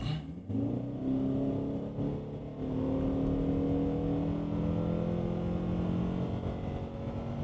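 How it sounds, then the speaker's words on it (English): A 2024 Ford Maverick launches from a brake-torque start in sport mode, its engine note climbing steadily in pitch as it accelerates hard, heard from inside the cabin as a continuous loud drone without talk. "We'll do a little bit of a brake torque."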